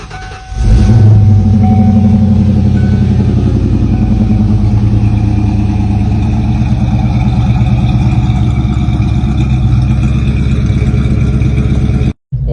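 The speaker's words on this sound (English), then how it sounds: "I have not started this car today, so this is gonna be a code start." A Ford Mustang GT engine cold-starts with a sharp crank and flare, then settles into a loud, steady, rumbling idle held close for about eleven seconds before cutting off abruptly.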